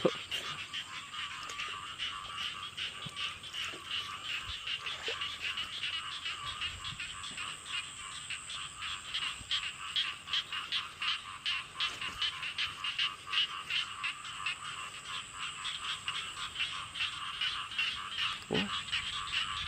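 Many frogs croaking at night in a rice field behind a house, a dense, steady chorus of rapid repeated calls that continues throughout, fairly distant, with no talking.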